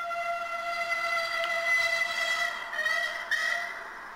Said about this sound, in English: you've got the noise of the train and the horn